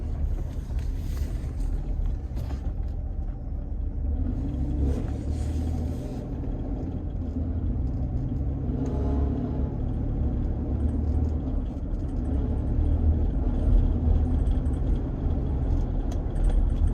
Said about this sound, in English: It sounds like a heat shield.